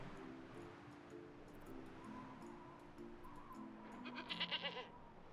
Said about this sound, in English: Meh, this goat looks menacing.